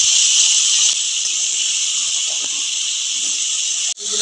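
A continuous, loud, close sizzle of cauliflower frying in hot oil with turmeric and salt, holding steady for several seconds before a brief sharp dip and clatter near the end.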